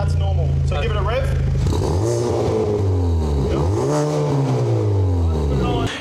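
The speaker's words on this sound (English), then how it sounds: "So give it a rev." A Hyundai i30N fitted with a big turbo kit revs repeatedly, its engine rising and falling in several loud, close sweeps, with someone talking over it.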